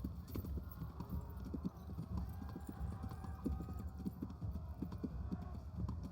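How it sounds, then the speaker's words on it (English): Hooves of a galloping horse in the video game Kingdom Come Deliverance drum in a fast, steady clip-clop rhythm over a low, continuous background rumble. "El galope es el paso más rápido."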